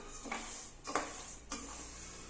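Rice dry-roasted in a pan over a low flame, with soft scraping stirs repeating three times over a faint steady hiss, quiet and close.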